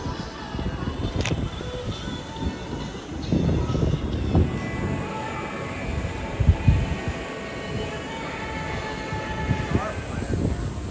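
The Grampus Jet suspended roller coaster at Greenland amusement park in Japan runs with a continuous rumbling roar of train cars on track, swelling and dipping with louder clatters partway through.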